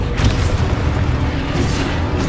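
A Confringo blast spell in the video game Hogwarts Legacy gives a loud, continuous booming, explosive rumble that stays dense and heavy for the whole moment, with no voice over it.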